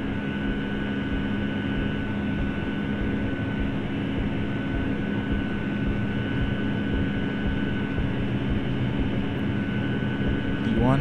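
Jet engines of a Boeing 757-200 in Flight Simulator roar steadily through a takeoff roll, a loud continuous rumble with sustained tonal whine, unbroken from start to finish, with a voice calling out over it.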